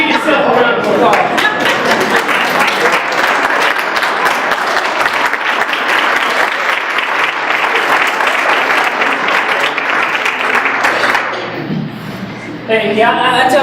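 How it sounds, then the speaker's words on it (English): A room full of people at a motivational workplace talk bursts into sustained, loud applause for about eleven seconds before it thins out, then a voice comes back in. "Give yourself a round of applause"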